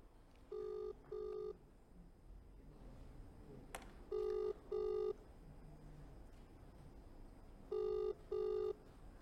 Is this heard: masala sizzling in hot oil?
no